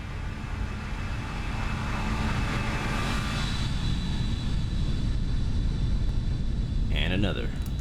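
An airliner in the X-Plane flight simulator roars past in a flyby at night over Germany, a steady loud engine rumble and whine that swells slightly as it passes.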